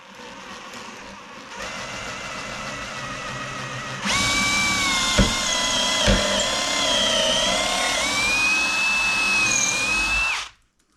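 An electric drill bores into hard red oak, starting with a quieter low whir, then jumping to a loud, steady high-pitched grinding whine with a couple of sharp knocks before it abruptly stops.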